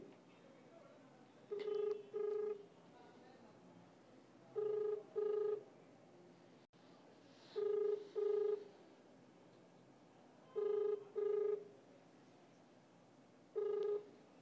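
A telephone ringback tone on a call, with paired rings repeating in a regular cadence separated by short pauses, faint and alone.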